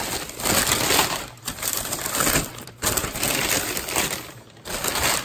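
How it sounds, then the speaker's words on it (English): Paper wrapping rustles and crumples as it is pulled off a forged steel skillet, in close, loud bursts separated by brief pauses, with no voice. "So let's get the paper off and see what we've got."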